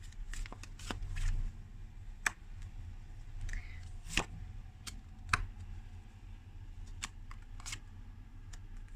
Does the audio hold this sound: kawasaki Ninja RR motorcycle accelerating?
no